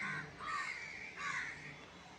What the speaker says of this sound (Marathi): ह्या सगळे कावळे जमले